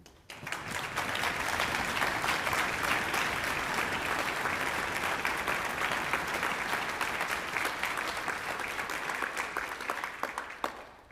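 Sustained applause from a concert audience greeting a speaker, dense steady clapping that swells quickly, holds for about ten seconds, then thins out at the end.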